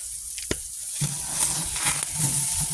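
Meat just flipped on a sunny outdoor grill, with a sharp tap followed by a steady close sizzling hiss that carries on to the end.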